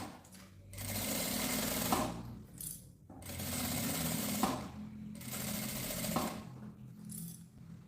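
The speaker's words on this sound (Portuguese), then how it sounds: "E aqui a gente também vem com uma costura de segurança." A sewing machine runs in three bursts, each a couple of seconds long, as it stitches a safety seam on a fabric pouch, with short pauses and faint clicks between runs.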